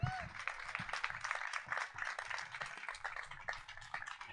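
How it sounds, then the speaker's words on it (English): An audience applauds a speaker, Aysha Khan, at the California Freethought Day 2025 gathering: dense, steady clapping fills the room from start to finish, with a voice talking over it. "Keep that applause going for Aysha Khan, everybody."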